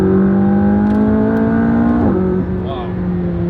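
Steady drone of a turbocharged Lamborghini engine held at high revs, then the pitch drops and settles near the end, loud and close.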